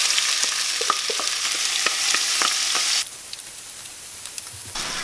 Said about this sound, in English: I've got to saute this for like 10 minutes